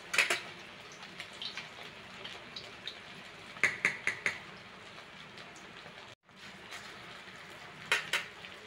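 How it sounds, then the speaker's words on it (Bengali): Sabudana pakoras deep-fry in hot oil over a high flame, giving a steady soft sizzle broken by sharp clusters of crackling pops, with a brief pause partway through. "এবার তেল গরম করে নিয়ে হাই ফ্লেমে বড়াগুলোকে এইভাবে তেলে ছেড়ে লাল"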